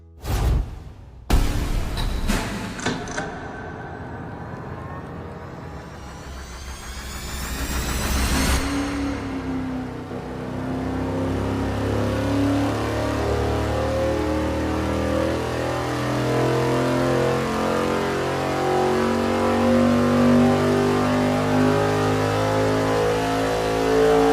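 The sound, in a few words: tuned V8 engine revving through a full dyno pull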